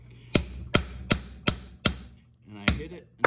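A nail hammer drives a nail through wood while building a birdhouse: six sharp, close, evenly spaced strikes, each about a third of a second apart, with a slight pause before the last blows.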